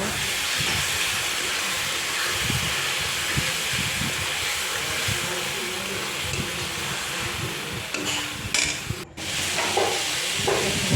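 Cumin, green chilli and spices frying in a pan for a potato, aubergine and parshe fish dish, giving a loud, continuous close-up hiss with a brief clatter near the end.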